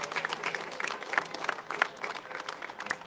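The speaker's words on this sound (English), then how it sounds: "So please give the Palestinian American Community Center a round of applause." Crowd applause for the Palestinian American Community Center at an outdoor flag raising in Paterson, a steady round of clapping from many hands, moderately distant and fairly quiet, with a few cheers mixed in.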